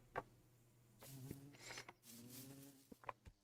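Bees buzz faintly around a hive inside a video game, the low drone coming in soft irregular swells with a few sharp ticks, quiet and close.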